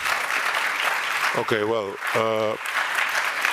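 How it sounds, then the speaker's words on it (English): An audience at a panel discussion on small states and the changing world order applauds with a broad, continuous clatter of clapping, while someone speaks briefly over it twice. "I don't understand the applause."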